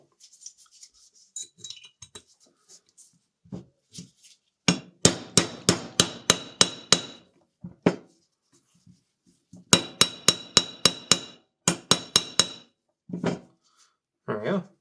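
A hammer drives a part out of a Tokarev pistol with two rapid runs of sharp metallic taps, close and loud, separated by a short pause, after quieter handling knocks.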